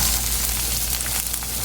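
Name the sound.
onions frying in pan for poha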